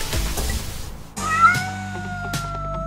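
A cat meows once, loud and close, with a drawn-out, wavering call over a steady tonal background hum, no voices.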